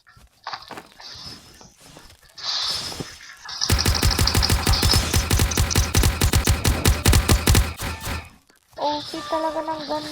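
Rapid automatic gunfire in the video game 99 Nights in the Forest, a dense rattling burst of several seconds preceded by shorter shots and clatter, with a brief pause and more game sounds after.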